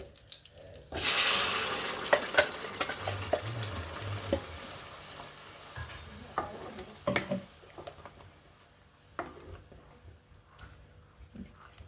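Ground green paste for chana curry sizzles and fries in a hot pan after a loud initial hiss, with stirring scrapes and clatter running throughout, and faint water trickling in the background.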